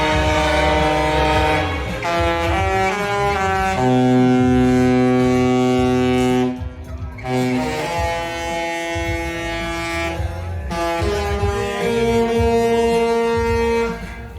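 Discovery Princess cruise ship sounding its deep horn as it sails away, long sustained harmonic blasts with a brief pause midway, loud and close over ambient deck noise.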